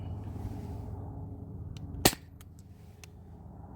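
A Sabre 68 home defense launcher fires a lightweight 3.6-gram nylon ball: one sharp, loud crack against a low steady hum, followed by a few faint clicks.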